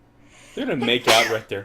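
A single sharp sneeze bursts out close to the mic around the middle, wedged among voices talking during a 1972 kaiju film commentary, with speech continuing just after.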